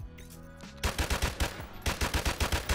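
A G3 rifle fires in Modern Warfare Remastered, with a rapid string of loud, punchy gunshots in two quick bursts after a short lead-in of game sound.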